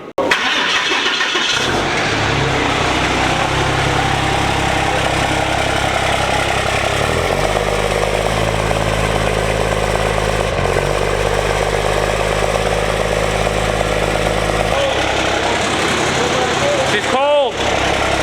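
Truck engine with a new full V-band stainless exhaust, running at a steady close, loud idle with a low rumble that shifts slightly in pitch, with people talking over it.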